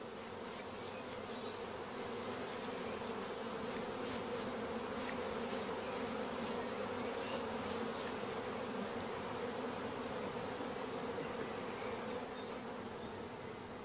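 Honey bees buzzing steadily around a queen-rearing colony, a dense, even drone that holds constant and fairly close throughout, with no voices.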